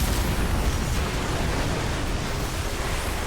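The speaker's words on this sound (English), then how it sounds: "Wicked hyper cannon." A hyper cannon blast in Final Fantasy XIV erupts as a loud, sustained booming roar, dense low rumble with hissing debris noise running steadily for a few seconds, no voices over it.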